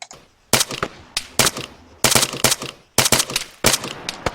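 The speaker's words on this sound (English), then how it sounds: "I immediately want to start shooting to make them get down." Rifle fire in the military shooter Arma 3, four clusters of sharp, loud shots separated by short pauses, close and with no voices.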